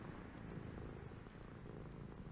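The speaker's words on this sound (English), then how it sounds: "That's a cat." A cat in the video game Grass Cutter purrs in a low, continuous rumbling drone, steady and close, with no talking over it.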